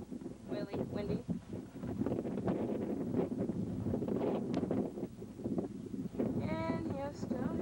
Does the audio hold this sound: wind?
yes